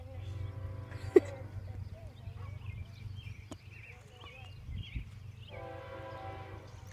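A CSX freight train rolls past with low rumbling and a brief horn blast, heard from a distance while people chat nearby.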